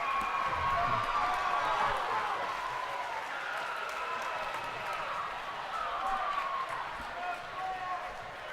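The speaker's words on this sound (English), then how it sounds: "Listen to this crowd." Crowd at an 18U boys volleyball championship roaring and cheering after a set-winning block, a loud sustained swell of voices and clapping that eases slightly, then rises again, with a commentator talking over it.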